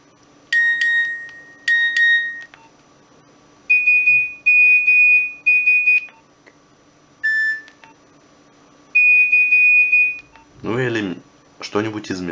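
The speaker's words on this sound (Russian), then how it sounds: "Так, сигнал о сообщениях." A Nokia 1202 mobile phone plays its message alert, a series of loud, clean electronic beep tones in short bursts with gaps between them, followed by someone speaking.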